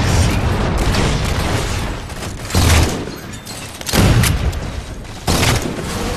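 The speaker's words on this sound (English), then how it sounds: "It's amazing how much I'm getting shot on." Gunfire in Halo 4 during an Infinity Slayer multiplayer match, with repeated bursts of shots and booming impacts in close succession, loud and near, with no talk.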